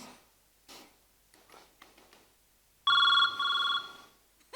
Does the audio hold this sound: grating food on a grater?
no